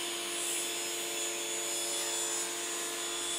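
A hand saw cuts through a wooden piece and the support board beneath it as a steady, close, continuous rasping hiss with an even level throughout.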